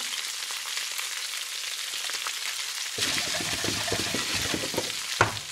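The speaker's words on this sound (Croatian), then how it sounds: "Sad u to ubacujemo ljutu papriku." Hot peppers drop into a pan of hot oil while roasted salmon with vegetables is cooked, starting as a soft frying hiss that becomes a louder, crackling sizzle, with one sharp spatter near the end.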